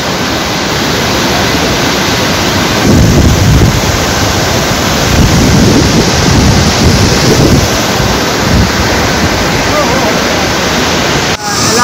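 A river rushes loudly and continuously during a cloudburst flood in Hanzor, Dachhan, Kishtwar, with heavy wind buffeting the microphone throughout.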